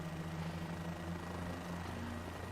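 Helicopter in Microsoft Flight Simulator flying over the Nürburgring, a low steady engine drone and rotor hum, faint and continuous, with no talk.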